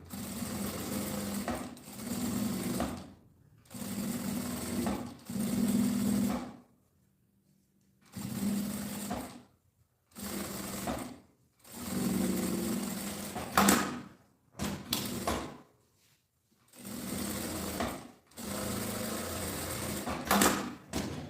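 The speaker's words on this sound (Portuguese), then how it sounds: "uma costurinha aqui, ó, de meio pé de máquina em volta, e aí pode passar aqui na parte reta também" Sewing machine stitching a seam around a fabric bag, running in repeated bursts of steady whirring hum separated by short silent pauses, close and clear with no talk.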